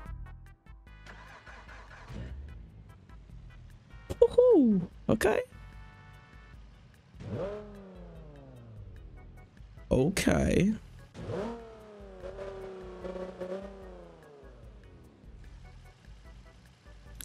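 Nissan 370Z in the BeamNG.drive game cranks and starts, then revs in several sharp bursts that fall back to idle, with a person exclaiming and talking over the engine.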